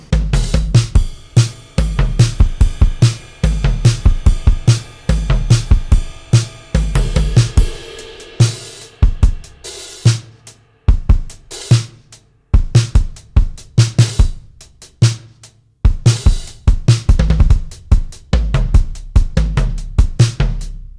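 A virtual instrument drum kit run through an SSL BiG SiX mixer plays a steady, loud groove of booming kicks, crisp snares and tom rolls with ringing cymbals, close and dense throughout without any voices.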